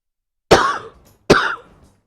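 A woman with a sore throat gives two separate dry coughs about a second apart, close and clear, with silence before and between them.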